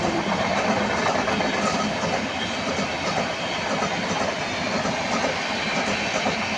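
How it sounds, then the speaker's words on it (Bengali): A long freight train rolls past nearby on the tracks from Howrah, a steady loud rumble and clatter of wagons filling the whole stretch without pause, with no talk over it. "কত বড় ট্রেনটা বলো, একটা মালগাড়ি দাঁড়িয়ে আছে।"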